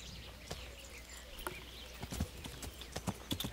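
Horse hooves clip-clopping in the medieval game Kingdom Come: Deliverance, a series of sharp, fairly close hoof strikes that quicken toward the end over a faint ambient bed.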